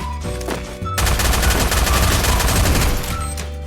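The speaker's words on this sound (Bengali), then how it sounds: "আর একটা বোম মারিছে" Explosions and gunfire in a shooting video game: loud, dense bursts of blasts and rapid shots that swell after the first second and roll on almost without a break.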